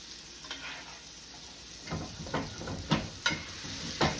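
Steak sears in a hot pan with a soft, steady sizzle, joined by several sharper crackles and spatters toward the end.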